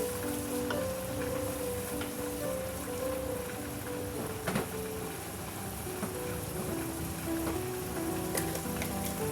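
Minced meat keema with peas frying on low heat, a steady soft sizzle like light rain with occasional faint clinks, continuous and even throughout.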